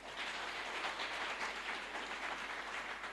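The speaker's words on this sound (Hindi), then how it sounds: "उनके लिए जोरदार तालियां हो सकती हैं।" Sustained, loud audience applause at a business event, a dense, even wash of many hands clapping steadily throughout with no break.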